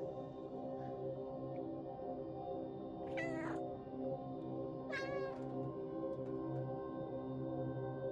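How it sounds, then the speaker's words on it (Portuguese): A cat in the video game Stray lets out two distinct, drawn-out meows a couple of seconds apart over a steady humming ambient game soundtrack, with no talking. "Aí é quando o gato chora"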